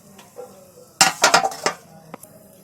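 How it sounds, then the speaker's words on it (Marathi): A metal lid clatters onto a pan of besan dhirde, a short burst of clinks and rattles after a quiet moment, then a final small tap; close by and fairly loud. "आता याच्यावरती झाकून ठेवते."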